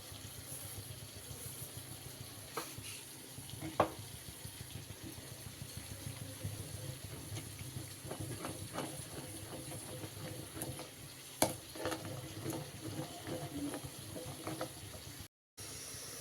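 Wheat halwa is stirred in a pan while sugar goes in little by little, making soft scraping and clicking stir sounds over a low continuous cooking hiss, with no talking.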